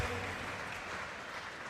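At a charity boxing match, the crowd applauds after the final bell, a steady, even wash of clapping from an audience, with no talk.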